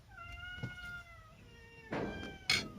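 A cat meows a few times, thin, drawn-out cries, faint and somewhat distant, with a couple of soft knocks near the end.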